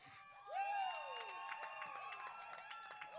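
Cheering, whoops and applause for graduate Maddie Knight at a Carihi high school commencement, a small enthusiastic group with rising shouts and whistles over clapping, fairly faint and continuous.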